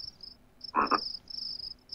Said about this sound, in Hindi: ओ भाई, ये तो मेंढक है